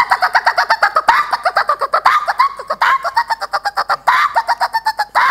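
A man vocally imitates a koel's call, but his rapid repeated bursts come out sounding like a clucking hen, loud and close, with quick rhythmic pulses over several seconds.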